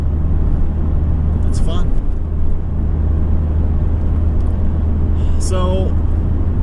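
A Mazda Speed3's engine cruises in sixth gear at about 2,200 rpm and roughly 65 mph: a steady low drone with road rumble inside the car, and a voice speaks briefly twice over it.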